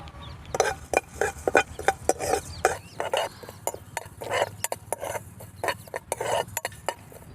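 Coriander seeds, cumin and fenugreek dry roasting in a pan, with a spoon stirring and scraping in quick, repeated strokes, close and fairly clear, with no talking.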